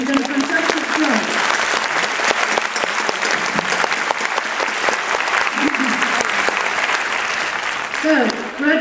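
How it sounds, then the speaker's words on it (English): A large audience at a university graduation ceremony applauds loudly and continuously, the clapping sustained for several seconds before tapering slightly near the end. "I just ask everybody to give Dr. Simon Dow a big round of applause?"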